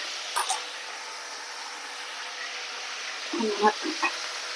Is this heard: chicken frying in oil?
yes